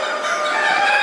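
A rooster of a nice breed, one shown at a poultry sale, gives a loud, close crow that fills the whole short moment without any talk.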